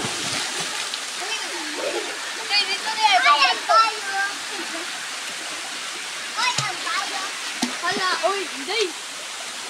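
Busay Falls in Lugait, Misamis Oriental, roars as a steady, broad rush of falling water, while several people talk and call out nearby.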